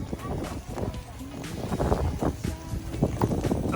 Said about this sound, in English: Yeah, I see it's windy.